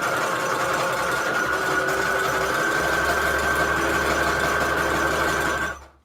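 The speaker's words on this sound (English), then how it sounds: "I am using a zigzag thread on my machine with a width of length of 2 and a width of 5" A sewing machine runs a steady zigzag stitch across paper scraps for envelopes, a continuous close mechanical whir that carries on evenly before cutting off at the end, no voices.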